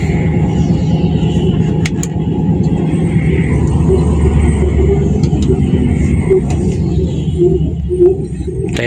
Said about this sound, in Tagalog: Haba ng traffic oh.